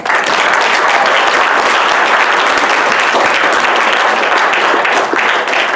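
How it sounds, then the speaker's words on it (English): A church congregation breaks into loud, dense clapping, a continuous roar of many hands filling the room at full volume throughout, with no speech on top. "Give the Lord a good clap."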